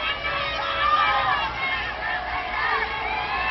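A large live crowd roars and cheers continuously at an Oklahoma vs Florida State college softball game in Oklahoma City, with loud, dense shouting and babble throughout.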